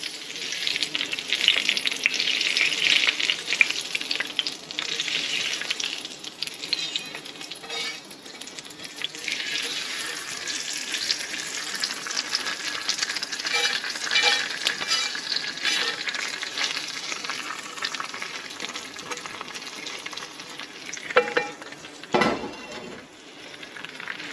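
Hot tempering oil hisses and sizzles loudly as it is poured over bottle gourd raita, a dense, continuous crackle that gradually eases, with a brief clatter near the end.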